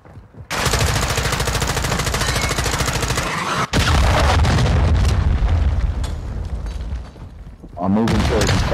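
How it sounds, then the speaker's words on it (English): Call of Duty MW2 beta match with a sustained burst of rapid automatic gunfire, a sharp cut, then heavy booming blasts from a cruise missile strike and further scattered shots, with a voice speaking near the end. "Hostile cruise missile launched."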